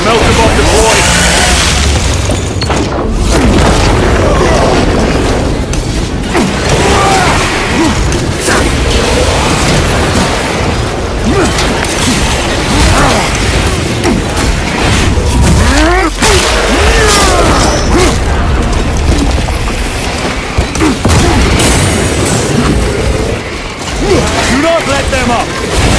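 A melta bomb detonates amid heavy combat in Space Marine II, with loud booms and mechanical clanks layered over a constant roar of battle while voices talk throughout.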